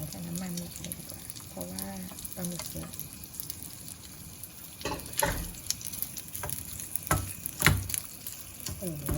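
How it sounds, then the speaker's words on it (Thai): Squid frying in a pan, a soft hiss with occasional crackling pops and louder bursts of spatter, heard from a moderate distance, with some faint background noise and brief voice-like tones early on. "ทอดอยู่ค่อยๆทอด หอมน่ากิแม่"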